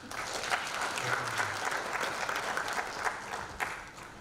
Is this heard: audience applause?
yes